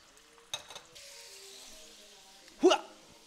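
Bacon frying in a pan, a faint sizzle running under the clip with a brief clatter early on and a louder scrape or sizzle burst near the end.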